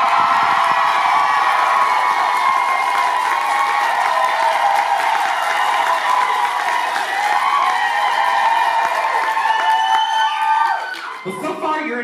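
A live theatre audience at a drag performance in a library theatre in Sarnia, Ontario screams, cheers and applauds for a contestant, a loud, dense, sustained roar that fades out near the end.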